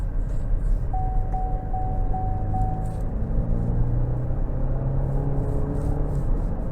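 Inside a 2022 Cadillac XT5 Premium Luxury AWD in sport mode, its 2.0-litre turbo four-cylinder drones loudly under acceleration, a steady cabin rumble with engine tones rising as it pulls and a few faint chimes early on.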